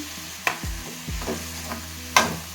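Tomatoes are sautéed in a pan for a jackfruit seed gravy, giving faint sizzling under a few sharp scrapes and clinks of a spoon stirring against the pan, with no one talking.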